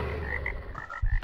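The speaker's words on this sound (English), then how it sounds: "Otherwise, Mr. Toad will kill me" A toad in the Minecraft modpack RLCraft croaks in a loud, close, continuous raspy drone with pulsing tonal bursts, followed by a heavier low thump near the end, with no voices.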